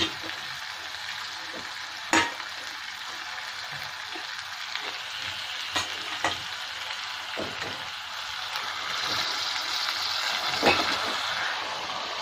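Chicken pieces frying in spiced oil in a pan, a steady close sizzle that runs throughout, with occasional clicks and scrapes of stirring and the sizzling swelling slightly toward the end.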